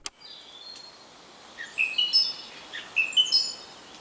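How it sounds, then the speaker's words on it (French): A song thrush sings at dawn in Ville-d'Avray in the Yvelines, giving clear, repeated whistled phrases in short bursts over a quiet background, moderately near and alone. "Là, vous écoutez la Grive musicienne, à Ville-d'Avray, dans les Yvelines"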